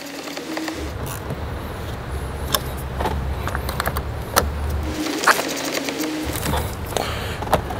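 Sharp metallic clicks and clanks from a 10 mm socket tightening the battery clamps on an Audi/VW during a DSG transmission service, spaced irregularly over a steady low idle rumble from the running car.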